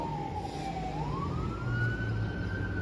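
A fire truck siren sweeps slowly down then climbs and holds a long wail, moderately distant, over low traffic rumble with no talking.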